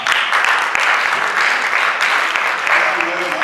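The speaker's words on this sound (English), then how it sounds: "Let's give them a clap." Audience clapping at a children's assembly session, a steady dense patter of many hands filling the room for several seconds.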